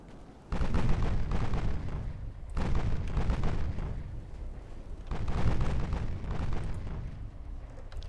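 Torpedo explosions in the naval warfare game Ultimate Admiral: Dreadnoughts boom heavily in three long, rumbling bursts, loud and deep, each starting abruptly and rolling on without any talk.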